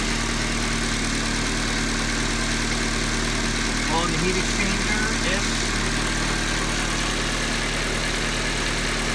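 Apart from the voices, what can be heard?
truck engine idling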